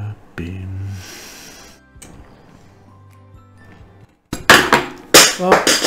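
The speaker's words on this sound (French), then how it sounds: "la tournevis s'est envolée, heureusement c'était vissé" A screwdriver flies from the hand while assembling an Altaya die-cast Citroën Méhari model car, clattering loudly in several bright metallic knocks on a hard surface after a quiet stretch of faint workshop hum.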